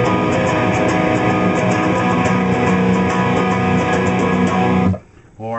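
A sustained, dense guitar riff from a song with held, ringing notes plays steadily for about five seconds, then cuts off abruptly into near silence.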